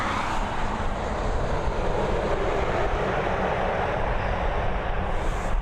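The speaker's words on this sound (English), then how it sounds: "this Airbus A330 beginning its journey over to San Francisco, again with my favourite Aer Lingus livery" An Aer Lingus Airbus A330, about 3.5 years old, departs Dublin Airport, bound for San Francisco, as a steady broadband jet engine roar that holds loud and constant throughout with no voices.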